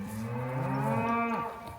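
A calf at a roping clinic gives one long, clear moo, close and loud, that rises and then trails off.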